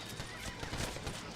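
Horses in the western video game Red Dead Redemption neigh and whinny loudly over clip-clopping hooves, in a dense, busy mix with no talking.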